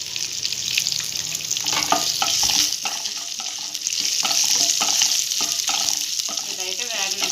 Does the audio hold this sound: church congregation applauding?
no